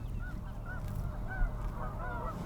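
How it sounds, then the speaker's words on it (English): Geese honk repeatedly from a field in a snowy river valley in winter, several calls rising and falling over a steady low rumble of wind or distant noise. "These geese weren't bothered by it."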